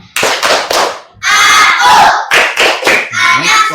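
A group claps loudly in quick rhythmic bursts for a Tepuk anak soleh ice-breaker at an Indonesian gathering, the clap patterns mixed with voices chanting along between pauses.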